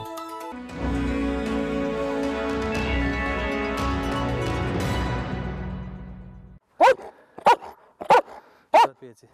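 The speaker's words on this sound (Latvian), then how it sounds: "Valsts policijas dienesta Suns Darvins" A State Police service dog barks several times in short, sharp, loud bursts close by, following a stretch of music.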